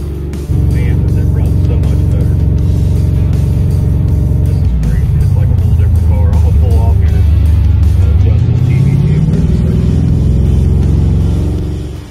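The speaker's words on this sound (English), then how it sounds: "I backed the Malibu out and decided to take it for a little test drive. It sounds really good" A Chevrolet Malibu engine running with newly installed lifters on a test drive, a steady loud engine drone with revving and a shift in tone midway, heard from inside the car with a voice talking over it.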